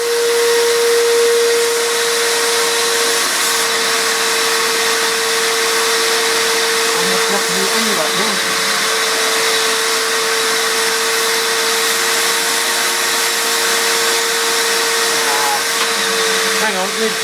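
Strong vacuum suction roars steadily through a car's DPF filter during cleaning, a loud continuous airflow whine with a fixed pitch, holding the same level throughout without pause.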